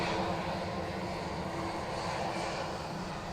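An Alberta Health Services aircraft passes at Edmonton International Airport, a steady loud engine roar holding throughout with no break or speech.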